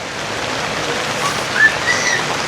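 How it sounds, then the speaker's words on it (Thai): Rain falls steadily with a constant soft hiss that fills the clip, fairly loud and even, with a couple of faint bird chirps and no talk. "อันนี้ฝนตกเนี่ย"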